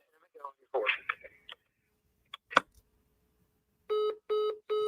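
Telephone keypad tones beep in a quick series of three near the end, preceded by scattered clicks and a muffled voice over a radio broadcast.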